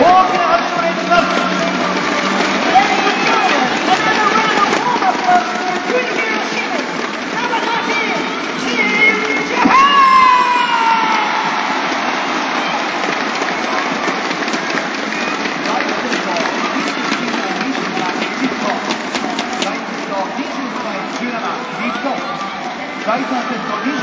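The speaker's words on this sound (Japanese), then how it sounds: "皆様、姉妹と清水邦広選手に大きな拍手をお願いします。" A volleyball arena crowd in Fukuoka at the 2011 men's World Cup applauds player Kunihiro Shimizu, a dense, loud, continuous roar of clapping with cheering voices rising briefly in the middle.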